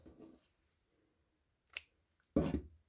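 Scissors snip diagonally across a sewn fabric corner on a zero-waste eco bag, two short crisp cuts heard close and clear, with near silence between them.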